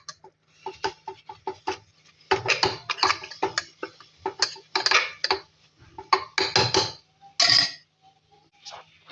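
Metal spoon clanking and scraping against a pot while stirring chicken curry, irregular close clatters and knocks in bursts with short pauses between, no talking.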